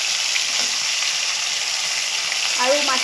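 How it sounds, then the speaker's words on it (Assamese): Singhi fish fry in hot mustard oil in a kadai, giving a loud, steady sizzle and hiss that runs without a break, with a few faint stirring sounds and no speech. "আৰু মাছখিনি ধুনীয়াকৈ ফ্ৰাই হ'ব দিব"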